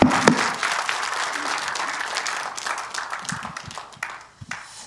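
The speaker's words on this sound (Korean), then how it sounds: "좋은 말씀하신 우리 홍동명 목사님께 감사의 박수를 보내주시면 고맙겠습니다" At a church rally, an audience gives Pastor Hong Dong-myeong a warm round of thanks, a full, continuous wash of many hands clapping that fades toward the end.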